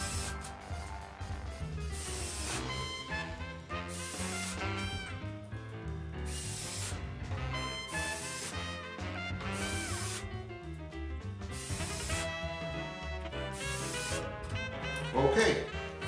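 A drill drives 1.5-inch screws through a lathe faceplate into a poplar bowl blank, heard as repeated close whirring and grinding bursts of several seconds each, separated by short gaps, with little else around them.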